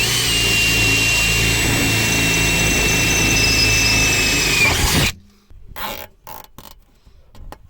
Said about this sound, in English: Then we've got some finishing zip tie touches here.